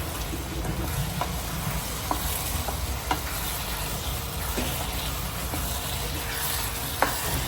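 Food is stirred and mixed in a frying pan for a home-cooked meat rice and chicken dish, giving a steady close sizzle with soft scraping strokes and a few light clinks spread across the whole stretch, with no talking.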